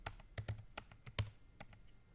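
Typing on a computer keyboard while entering values for a C++ program, heard as a quick run of crisp, close key clicks in an uneven rhythm, with no talk over them.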